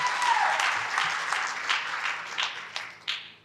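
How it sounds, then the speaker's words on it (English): Audience applause at a panel discussion, a dense burst of clapping that gradually thins, with a few sharper individual claps near the end. "Let's get a round of applause."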